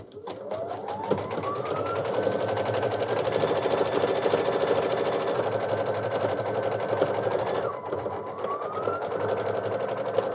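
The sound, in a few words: embroidery machine stitching out the words Happy Easter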